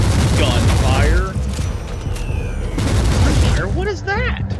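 Gunfire bursts and booms sound amid a busy battle in Warhammer 40,000: Inquisitor – Martyr, dense and loud with a voice talking over it.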